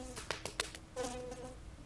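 A fly in a horror game buzzes close by in short, faint bursts, a few quick whirring passes and then a brief steadier hum.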